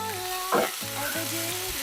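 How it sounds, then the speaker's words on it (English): Shallots and onions sizzle steadily in a hot pan while being stirred, with a spoon scraping through them; close and continuous frying with a short louder stir, no talking. "And then we're just going to continue to stir."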